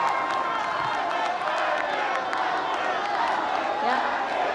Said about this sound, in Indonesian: Boleh sekarang tepuk tangan